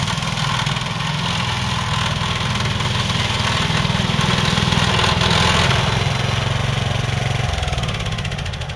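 A T-Rex slope mower's engine runs steadily at a constant loud hum through the whole stretch, with no voices over it.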